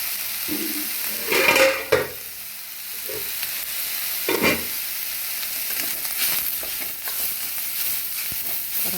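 Onion, curry leaves and coriander leaves lightly frying in a pan for wheat-flour samosa filling, a steady sizzle broken by a few louder bursts of stirring and scraping, with no speech.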